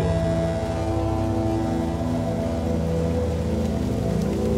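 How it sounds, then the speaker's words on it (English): A steady wash of rain falls as an atmospheric layer in a Soundbox 2.0 music project, a dense, even hiss of drops layered over sustained low tonal drones at a fairly loud level throughout. "then right then the atmosphere comes in. We start hearing the rain."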